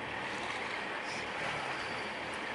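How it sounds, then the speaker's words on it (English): A steady, broad rumble of a ferry engine churning through water as it departs off Menorca in the Balearic Islands, constant and fairly loud with no pauses. "And the ferry takes off."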